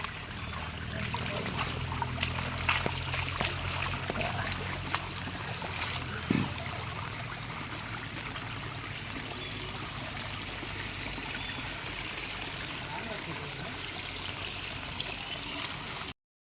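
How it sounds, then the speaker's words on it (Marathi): Steady flowing water runs continuously throughout, a constant broadband rush like a clean forest stream close by, with no voices. "पाणी बघा आमच्या इथनं किती येते बघा"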